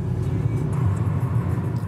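A car driving through Berlin city traffic, a continuous low engine and road rumble heard from inside, steady and fairly loud with no talk.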